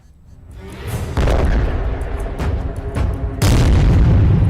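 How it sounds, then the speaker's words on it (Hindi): Israeli air force bombing of Gaza: heavy, rumbling explosions in a loud, noisy scene, with two strong blasts a couple of seconds apart. A continuous roar and crackle fill the gaps between them. "गाजा पर इजराइल की बमबारी, हमास के हमलों का करारा जवाब, इजराइल का बारूदी प्रतिशोध"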